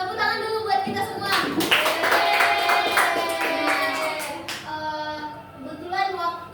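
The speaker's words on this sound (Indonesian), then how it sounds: "Tepuk tangan dulu buat kita semua." A class of students claps hands together in a room, a dense, fairly loud burst of applause lasting a few seconds, with a teacher's voice speaking over and after it.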